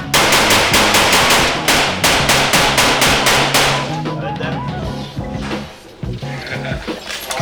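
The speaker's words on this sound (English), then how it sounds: "we went into this firing range and we started, you know, firing off like AK-47s," AK-47 and M16 rifles firing at an outdoor shooting range: a rapid automatic burst of loud, close shots, followed by scattered single shots and softer clatter as voices talk nearby.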